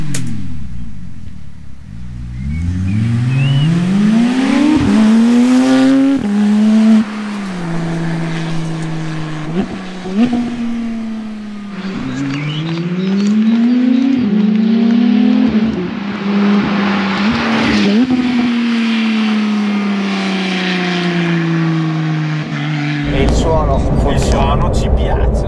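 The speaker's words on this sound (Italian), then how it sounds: "Ma come suona questo scarico?" Porsche GT3 RS with a new freer-flowing exhaust revving repeatedly, a loud near engine rising and falling in pitch through several blips, with a voice talking over parts of it.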